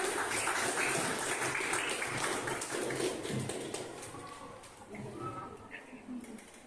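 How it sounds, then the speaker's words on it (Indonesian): Classroom applause from students, dense clapping that gradually thins out while voices rise over it. "tepuk tangan untuk kita semua"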